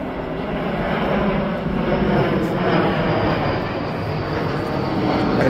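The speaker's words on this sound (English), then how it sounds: "And we hear another flight coming in." An Embraer ERJ-170 airliner flies in toward an airport, its engine roar steady and loud, heard from outdoors near a large Home Depot store.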